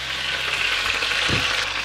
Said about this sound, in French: On va rajouter les oignons et l'ail.